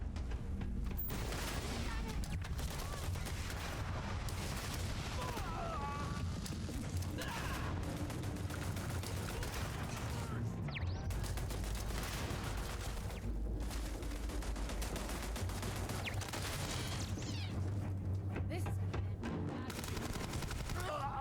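Weapon gunfire in Starfield rattles in dense, rapid bursts throughout, mixed with game sound effects and a player talking over the shooting.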